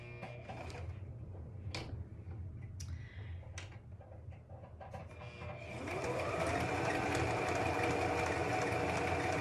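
A sewing machine stitches a child's hat, starting with scattered clicks and fabric handling, then a steady whirring run that continues to the end.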